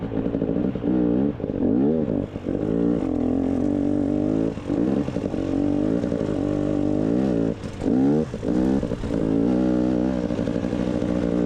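A motorcycle on a doubletrack desert trail near Black Canyon City, Arizona, revs loudly and continuously up close, its engine pitch rising and falling with repeated throttle blips.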